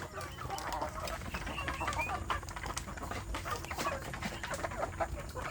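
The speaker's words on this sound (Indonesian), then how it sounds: "yang anak ayam kampung ini juga siap untuk jadi indukan" Free-range Indonesian village chickens (ayam kampung), hens and young birds in a coop, clucking and chattering continuously in a busy flock, moderately close, over a steady background hum.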